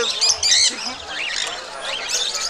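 Lovebirds and budgerigars at a caged bird stall in Naihati pet market near Kolkata, with shrill squawks and chirps close by in bursts and a voice talking faintly beneath them.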